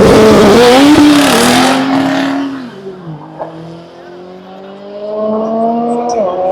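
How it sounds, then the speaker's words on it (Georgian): A drag racing car on cold tyres at the Rustavi track launches with heavy wheelspin, its engine roaring loudly and close before fading as it pulls away. A second, quieter engine then revs up and holds. "ვერ მოეჭიდა ცივი იყო საბურავები სავარაუდოდ და ძალიან ბევრი იბუქსავა"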